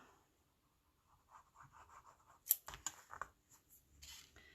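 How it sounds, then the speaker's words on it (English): Scissors snipping through foil while making a fancy Valentine card, a few close, crisp cuts after a quiet start, with light rustling of the foil between snips. "So I just cut the foil slightly smaller than the card, the band."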